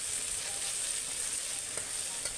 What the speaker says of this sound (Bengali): ডিমটাকে খুব ভালোভাবে ভেজে নিব।